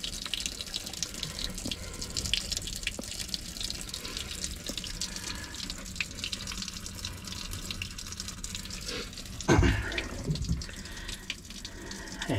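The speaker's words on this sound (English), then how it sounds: "that's all the water that we just cleaned out of the block" Water gushes steadily from the engine block of an inboard/outboard boat as it is flushed for winterizing, a continuous splashing stream with a brief louder surge near the end.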